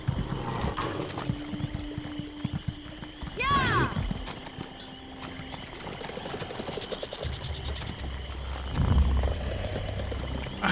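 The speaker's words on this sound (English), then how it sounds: "Oh my gosh, the horse is so fast." Rapid hoofbeat clip-clop of a horse galloping in Elder Scrolls Online, with a brief whinny partway through, heard over game ambience while players talk excitedly throughout.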